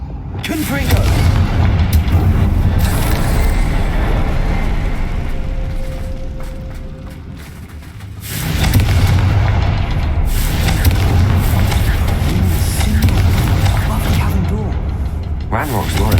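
A Confringo explosive spell goes off in the video game Hogwarts Legacy, giving loud, sustained booming blasts with a brief dip before the rumble swells again.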